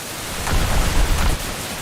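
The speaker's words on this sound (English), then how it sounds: "I just hear explosions in the distance." Muffled, rumbling explosions from a naval combat video game, a broad noisy swell building up mid-way and then settling back, with no talking.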